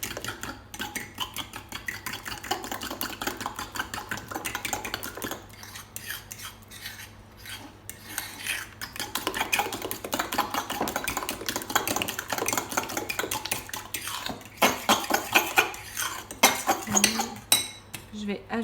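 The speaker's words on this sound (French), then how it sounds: "Je mélange bien." A spoon stirring a flan base mixture in a bowl, with continuous scraping and clinking of utensil against the dish, steady and close throughout, growing busier toward the end.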